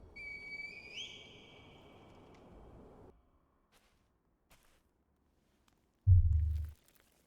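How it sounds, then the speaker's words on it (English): Reed whistle blown in the video game Sekiro, two rising whistle tones near the start over a rushing background, followed by silence, faint ticks and a short heavy low thump at the end. "Call the divine area with the reed whistle."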